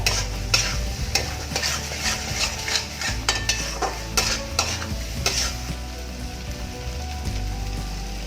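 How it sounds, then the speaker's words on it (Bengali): Chicken curry masala is stirred and sautéed in a pan, with a steady frying sizzle under repeated scraping and clinking strokes of a spoon against the metal. "এক মিনিট মতো এটাকে আমি কষাবো।"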